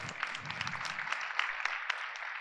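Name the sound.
audience applause at a medical conference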